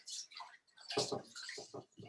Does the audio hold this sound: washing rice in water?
yes